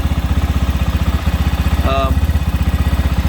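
An SSR 250 dirt bike engine idles close by with a rapid, even mechanical thumping that holds steady throughout, and a brief voice cuts in over it midway.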